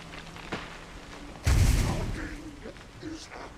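A flare gun fired in Alan Wake Remastered, one loud, close blast with a rushing burn that fades over about a second, after a small click and soft game noise.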